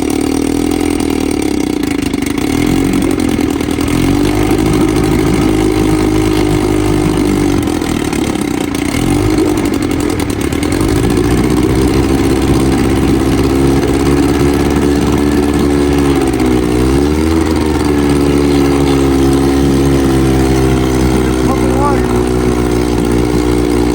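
A restored 1954 Evinrude 7.5 HP outboard motor starts and runs steadily, a loud, close, continuous buzzing drone with small shifts in pitch and speed as it idles and revs.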